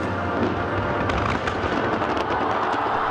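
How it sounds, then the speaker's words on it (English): A fireworks display cascading down a tower from spire to base at a nighttime celebration, a dense, loud, continuous crackle and rumble with sharp pops scattered throughout. "Fireworks cascaded from the tower's spire to the base"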